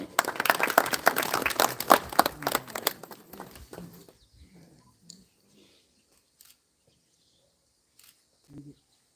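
An audience at a small gathering in a home claps for around four seconds in a dense burst of applause, which then dies away into quiet with a few faint scattered noises.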